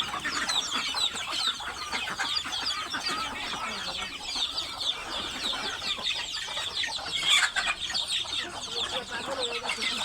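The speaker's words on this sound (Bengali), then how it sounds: "অনেকদিন পর আবার আমরা মুরগি দেখাইতেছি।" Chickens cluck steadily throughout, a dense chorus of hens close by that runs from start to finish without any voices.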